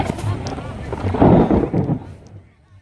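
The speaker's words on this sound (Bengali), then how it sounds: "মেঘের গর্জন শুরু হয়ে গেছে" Thunder rolls over an open field at the Maidan in Kolkata under a cloudy afternoon sky, a low, moderately loud rumble that swells for about a second and then dies away.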